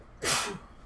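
One close human sneeze, a sudden bright burst that trails off quickly, heard alone against a quiet background.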